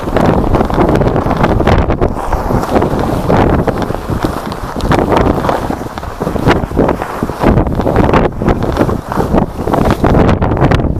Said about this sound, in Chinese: 咱俩顺着风，顺风，它这个风往那边刮呢